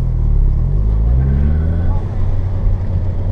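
A car accelerating on an autocross course, a loud steady engine drone rising in pitch as it pulls through a gear, with people talking over it in the cabin.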